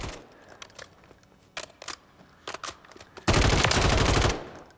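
Automatic fire from an IWI Tavor X95 in Call of Duty Modern Warfare III: several short, sharp bursts and single shots, then a loud sustained burst of about a second, close and dry, with no voices.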